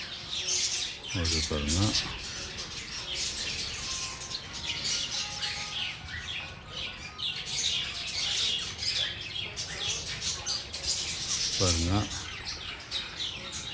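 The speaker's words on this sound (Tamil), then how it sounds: "பேர்ட்ஸ் எல்லாம் உள்ள இருக்காங்க." Small birds chirping inside a damaged terrace garden, busy high twittering and chirps close by throughout, with two brief low voices talking over them.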